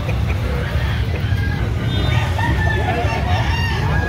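Gamefowl crow and cluck repeatedly amid the loud hubbub of a cockfighting sale venue in Cebu City, with a rumbling background and people talking nearby.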